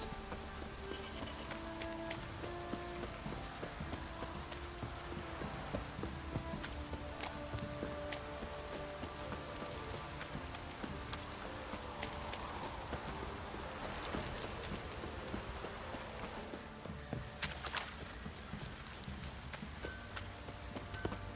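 Rain falls steadily in the game The Witcher 3, a constant soft patter heard while a horse's hooves clop along in the background. The scene stays quiet and continuous throughout with no voices.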